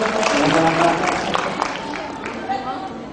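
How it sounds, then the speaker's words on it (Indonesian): Seminar audience applauding a friend's birthday in Pekanbaru, a dense wash of clapping and crowd noise that fades slightly over a few seconds, with voices mixed in. "Berikan tepuk tangan untuk sahabat saya."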